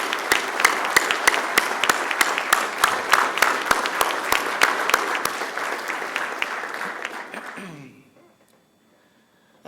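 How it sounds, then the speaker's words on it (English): Audience applause for an inductee at an ROTC Hall of Fame ceremony in a legislative chamber, steady and fairly loud with sharp individual claps standing out, fading out near the end into near silence. "Let's give a big round of applause for our second inductee."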